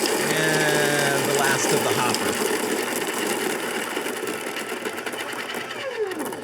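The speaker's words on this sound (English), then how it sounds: "We're going to grind that down." A coffee grinder grinds beans coarse for French press, a loud continuous whirring buzz up close that holds steady and then eases slightly; a voice speaks briefly over it.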